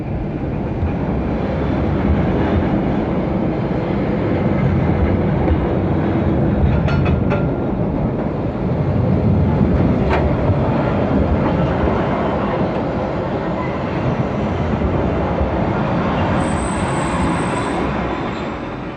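A Rhaetian Railway electric locomotive built in the 1920s, rated at 1076 horsepower, hauls a train past with a loud, continuous rumble and rattle of wheels on rail, with faint metallic squeals.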